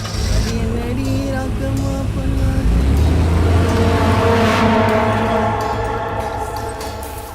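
A car engine runs steadily as the vehicle pulls out of a garage, a continuous close rumble with a slight rise in revs midway, no talk over it.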